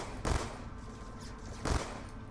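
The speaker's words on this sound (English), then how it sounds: "I can see you shooting your way through" Two short bursts of gunfire from Black Ops 2 Zombies on the Origins map ring out about a second and a half apart, each a brief, punchy volley over a low, rumbling game background.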